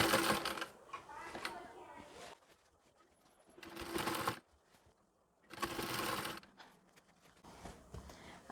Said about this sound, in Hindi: इसी तरह से इसे रखते हुए मैं सिलाई लगाते जाऊँगी।